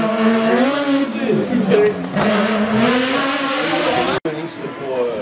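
A race car at a hill climb in Quettreville, its engine roaring loud and steady as it pulls through the gears. A commentator talks over it throughout.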